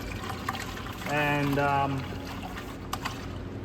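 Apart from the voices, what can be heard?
pre-diluted coolant poured into a 2013 Dodge Avenger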